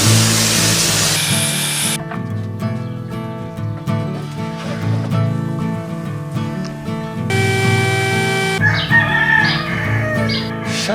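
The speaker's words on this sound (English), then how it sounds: "shut the heck up, you stinking roosters" Roosters crow loudly nearby in a woodshop setting, with several drawn-out calls mixed among harsh tool-like noise and shifting tonal sounds.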